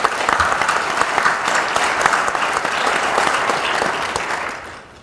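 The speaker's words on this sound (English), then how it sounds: "I want you once again to join me to applaud their performance" An audience at a Tamil Heritage Month celebration applauds a dance performance, a full and even wave of clapping that holds steady, then fades out at the very end.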